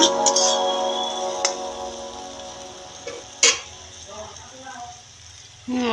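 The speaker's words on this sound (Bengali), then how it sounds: "মশলাটা ভালোভাবে কষিয়ে নিব।" A spice paste with dried red chili powder fries in a pan, a soft sizzle under a sustained background tone, with a few clinks of a utensil and a brief sharper burst of frying midway.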